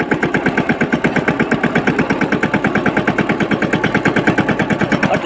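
Mini tractor engine running under a power check, a loud, close, steady chugging with a fast regular pulse that holds evenly from start to finish, no talk.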